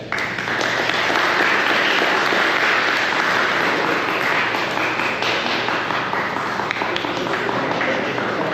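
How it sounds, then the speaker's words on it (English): Sustained applause from a crowd at a Civil Air Patrol cadet graduation ceremony, steady loud clapping that fills the whole stretch without a break. "Let's have a round of applause for one of your staff cadets."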